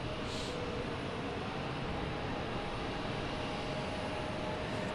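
An Air Portugal airliner arriving from Lisbon lands at Boston Logan Airport, a steady broadband engine roar with a faint whine, sustained and fairly distant.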